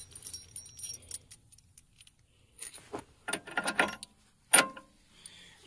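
New metal bolts for a Case 450 dozer track tensioner being handled, with a cluster of sharp metallic clinks and jangles, a burst early, then a run of rattling clanks and one loud close clink near the end.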